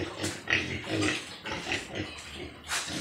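Farm pig, a sow close to giving birth, grunting and snorting close by in a series of short, irregular bursts.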